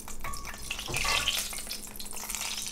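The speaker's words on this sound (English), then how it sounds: "Ooh, you hear that sizzle?" Bacon grease sizzling in a hot pan, a soft, continuous frying crackle with a few clinks and stirring scrapes, no voices.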